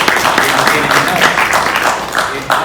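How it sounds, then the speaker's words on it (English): Brief applause from a small group during an entrepreneur interview, a few seconds of loose clapping at moderate loudness with some murmuring mixed in. "Can we give applause for Jonathan?"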